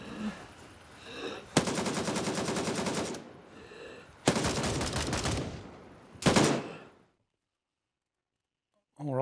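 Sustained automatic gunfire from the video game Gray Zone Warfare during a night operation, three loud bursts of rapid shots lasting a second or two each, close by, then silence and a final burst beginning at the end.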